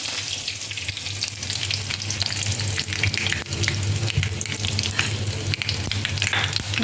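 Mustard seeds sizzling in hot oil in a pan for a Maharashtrian batata bhaji, a dense continuous crackle and hiss with small pops throughout, close and fairly loud.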